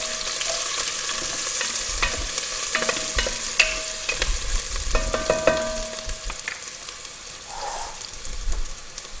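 Onion sizzles and fries in a hot pan, stirred by a Goan chef, with steady crackling and a run of scraping, clattering stir strokes, loud and close.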